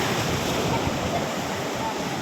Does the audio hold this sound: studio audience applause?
no